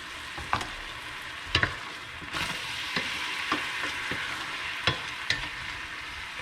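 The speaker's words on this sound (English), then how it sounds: "Couple of ladles of stock, just stir it in." Stock is stirred into seafood risotto rice in a hot pan, with a continuous gentle sizzle and bubbling cut by repeated sharp knocks and scrapes of a spoon against the pan.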